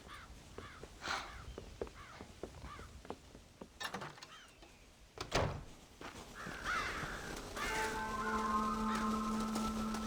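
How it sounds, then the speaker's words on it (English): Crows caw repeatedly in Red Dead Redemption, harsh calls scattered over a soft ambient bed, with a sustained musical tone rising near the end. "God damn crows!"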